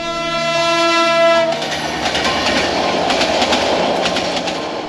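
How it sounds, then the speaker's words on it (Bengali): A train horn sounds loud and sustained through a Chittagong railway station, then cuts off as the train rolls through with a dense, noisy rush of wheels and carriages that stays close and steady to the end. "ট্রেন ছুটে যাওয়ার সাথে সাথে পুরো পরিবেশ ভরে যায় হই হুল্লোড় শব্দে।"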